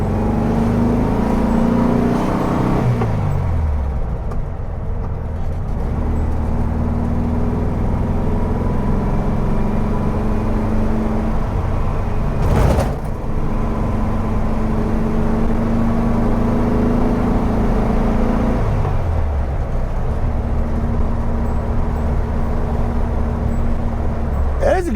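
A 1964 VW Beetle engine drones steadily while driving, its note rising and falling with shifts and acceleration, with road and cabin noise underneath.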